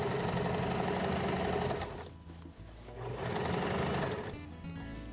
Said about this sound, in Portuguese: Você vai costurando com cuidado.